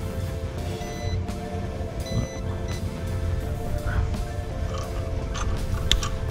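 Short, high electronic beeps chirp a few times from a voltage tester, repeating in quick pairs over a low mechanical hum and faint rustling during a live light fixture change.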